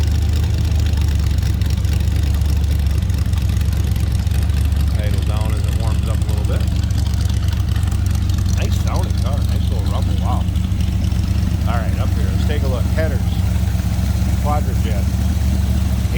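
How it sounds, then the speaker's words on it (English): A 1933 Ford Victoria idles with a side-exit exhaust, giving a steady close rumble with a slight bark, while someone talks over it throughout. "Side exit exhaust. That's why you get a little of that bark."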